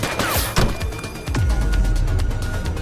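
Gunshots ring out in the police game The Precinct, with a few sharp cracks and impacts and then a rumbling, busy stretch, fairly loud with no talk.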